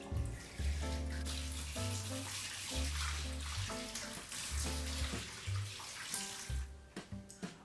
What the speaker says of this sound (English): So we'll fill this up with some water.